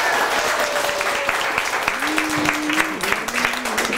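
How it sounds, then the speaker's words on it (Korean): A party crowd at a Korean first-birthday celebration claps steadily and briskly, a continuous patter of applause with a sustained tone sounding over it. "여러분 박수 부탁드리겠습니다."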